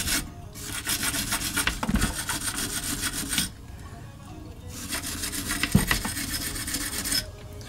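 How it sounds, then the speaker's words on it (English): Wire brush scraping rust off a vintage Echo strimmer, with two long bursts of harsh, rasping back-and-forth scrubbing separated by a short pause, close and loud with no talking. "What I have got is a wire brush so we can get rid of that rust."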